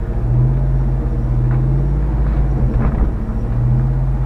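A Jeep Wrangler JK with a transfer case and lockers rolls down a trail incline in first gear. Its engine gives a low, steady, close rumble with a slight swell partway through, and no one talks.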